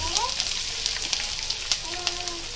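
Onions sizzling as they hit hot oil in a frying pan while making moong dal masala dosa, a crackly hiss with sharp pops, steady and close under a faint voice.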